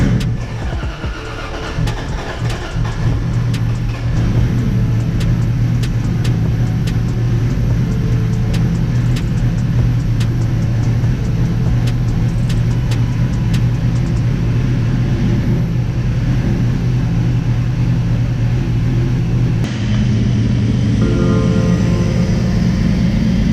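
Toyota Supra with a 700HP engine idling after start-up in a garage with the rear on jack stands: a loud, steady engine rumble holds nearly the whole time, with a slight shift toward the end and no talking.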